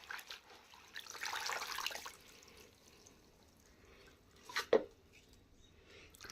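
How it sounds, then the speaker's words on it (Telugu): Gongura leaves are rinsed with water by hand: a soft splashing rush early on, then quiet handling and a brief sharp splash toward the end. "ఇంకా బాగా నీట్గా అయితే ఇట్లా నీళ్ళు వేసి కడిగి పెడుతున్నాను నేనైతే ఈ మాదిరిగా."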